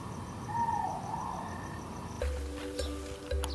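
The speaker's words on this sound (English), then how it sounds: "Chirping crickets keep the beat as an Argus pheasant sings a happy tune." Night at a safari park campsite, with a steady bed of crickets chirping and a softer sustained call from an Argus pheasant rising above it, later joined by low, pulsing animal sounds, all moderately quiet and continuous.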